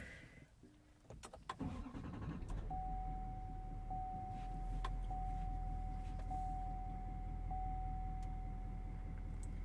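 A 2020 Chevy Silverado 2500 with a Duramax diesel engine cranks and catches, then settles into a steady, loud, rumbling idle with a thin electronic tone chiming over it.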